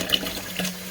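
Tap water runs steadily into a cup, a continuous close splashing and trickling stream with a low steady hum beneath it.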